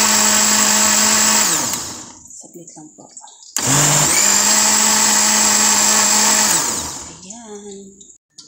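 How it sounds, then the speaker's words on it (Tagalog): A blender whirs loudly in two long bursts with a short pause between, a voice speaking briefly during the gap. "Diyan, blender ko."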